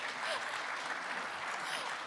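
Steady, fairly quiet applause from a conference audience at AWS re:Invent 2022, a dense wash of clapping hands that holds evenly throughout.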